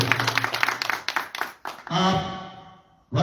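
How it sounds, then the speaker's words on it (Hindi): Audience claps in a burst of scattered, close hand claps to welcome a guest at an environmental seminar, then thins out, followed by a speaking voice over a PA. "जोरदार तालियों से उनका स्वागत कीजिए।"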